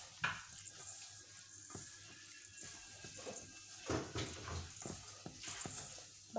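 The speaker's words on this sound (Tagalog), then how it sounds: "Haluin natin." Stirring of a cassava cake batter for putong balanghoy in a pan, a run of scraping and wet, sloshing strokes with irregular clatter, fairly close and moderately loud, with no voices.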